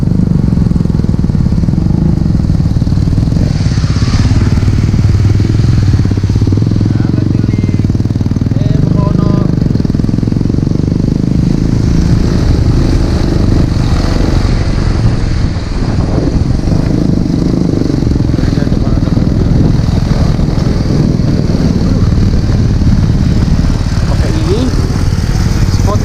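A motorcycle climbs a steep road up to Taman Langit in Bandung, its engine droning loudly and continuously throughout, with wind and road noise mixed in.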